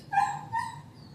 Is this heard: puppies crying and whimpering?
yes